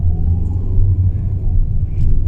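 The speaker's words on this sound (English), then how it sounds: "now you can hear the engine" Engine of a Mitsubishi Xpander after an ECU remap, a loud low rumbling drone close by that rises slightly toward the end, with voices talking over it.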